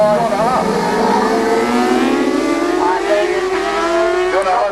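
Racing motorcycles, including a 675, scream away from the start line at a road race, engines rising steadily in pitch as they accelerate, loud and close, with an announcer talking over them.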